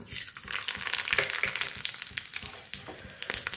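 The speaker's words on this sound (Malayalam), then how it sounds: "വെളിച്ചെണ്ണ ചൂടായിട്ടുണ്ട് ഇനി ഇതിലേക്ക് കടുക് കൊടുക്കാം" Mustard seeds sputtering and crackling in hot coconut oil for a Kerala-style chutney tempering, a steady close sizzle broken by sharp pops and bursts, with no voices.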